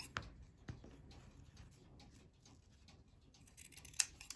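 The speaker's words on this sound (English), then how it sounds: "So you just want to trim each of your bows." Scissors trim the ends of narrow ribbon bows at an angle for DIY Valentine's window decorations, making a few faint, close snips with light handling ticks between them.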